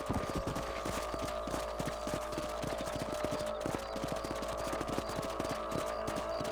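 A horse gallops in the video game Red Dead Redemption, its steady, rapid clip-clop of hooves loud and continuous over a constant background hum, with no speech.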